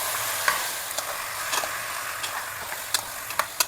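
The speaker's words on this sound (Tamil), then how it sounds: "அது கொஞ்சம் அப்படியே அந்த எண்ணெயிலேயே கொஞ்சம் வதங்குவோம்" Marinated chicken sautés in hot oil with a steady, close sizzle and scattered sharp crackles and spatters, with no one speaking.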